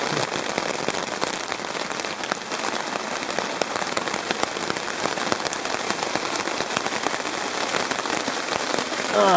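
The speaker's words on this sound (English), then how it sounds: "Still raining." Steady heavy rain patters on a tarp over a DD Frontline hammock at a woodland wild camp, a dense continuous hiss of drops close by with no voices.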